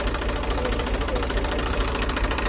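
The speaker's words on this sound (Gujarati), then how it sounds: "અમારા ખેતરમાં ટ્રેક્ટર ચાલે" A tractor engine runs in a farm field at night with a steady, throbbing, low rumble that stays constant and fairly near throughout.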